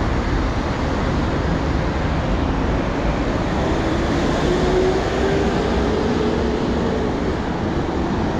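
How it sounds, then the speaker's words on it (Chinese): A bus rapid transit vehicle or metro train passes on a street in Arica, Chile, making a loud, steady rumble and roar that fills the whole stretch, with no voices. "这边这是快速公交或者地铁。"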